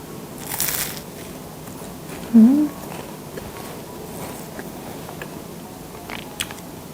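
A bite into a giant sugar-coated French pie pastry gives one short crisp crunch near the middle, close and clear over a quiet room, with faint small rustles around it.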